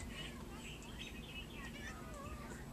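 A young mockingbird imitates a cat's meow in a few quiet, thin mewing calls, faint against a steady outdoor background hiss.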